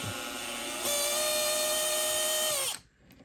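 Makita clutch-based cordless drill spinning up, a high motor whine that rises in pitch, holds steady for about two seconds, then winds down abruptly, loud and close.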